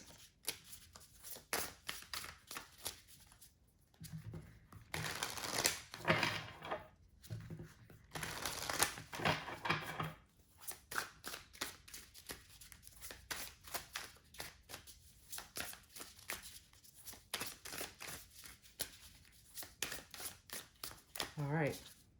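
Tarot cards being shuffled and laid out for a reading, with repeated crisp riffles, flicks and soft slaps of cards on a surface, close and quiet, some faint rustling between bursts.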